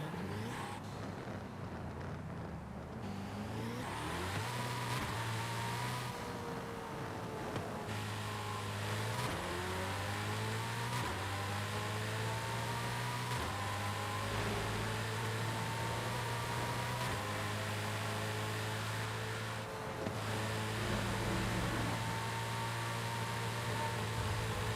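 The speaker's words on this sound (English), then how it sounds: "I believe that's the Koenigsegg." A Koenigsegg supercar engine drones and revs steadily, its pitch stepping up and down through gear changes, loud and close with no talking.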